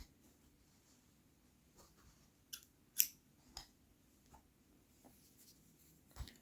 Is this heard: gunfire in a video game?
no